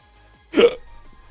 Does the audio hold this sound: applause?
no